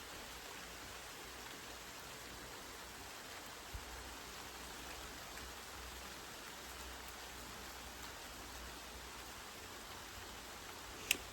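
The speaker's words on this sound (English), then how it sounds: "Can you hear the rain?" Rain falls steadily on a home garden, a soft, even hiss that stays faint and distant for the whole stretch, broken only by one or two tiny ticks of drops.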